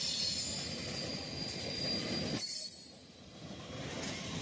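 A train rolls past on a railway line in Muncie, a steady loud rumble with a thin squealing wheel tone, then a sudden drop as the cars pass and a quieter continuing rumble.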